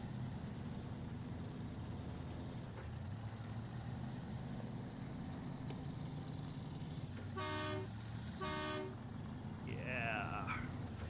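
Two short truck horn blasts in the video game Snowrunner, sounding over a constant droning engine rumble, followed by a brief wavering tone near the end.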